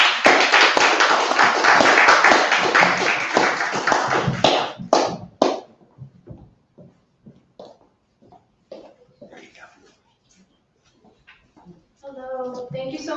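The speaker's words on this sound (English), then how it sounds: "Let's have a nice round of applause for her." Audience applause for a poet at a poetry festival in Jersey, a steady wash of many hands clapping for several seconds, then trailing off into a few isolated claps before a voice begins speaking.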